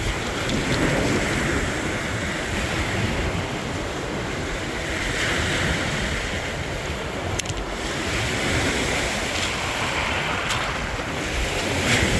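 Waves wash steadily onto a rocky Lake Michigan beach, a continuous broad surf roar with gentle swells and some wind buffeting the microphone.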